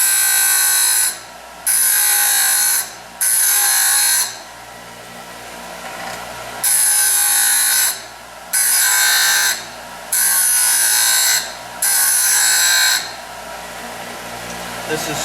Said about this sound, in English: Just grind right all the mark off of there.